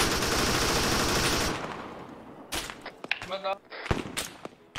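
Dense, rapid automatic gunfire from a machine gun in the military shooter Arma 3 roars loudly for about a second and a half, then cuts off, leaving sharp scattered game noises and voices talking.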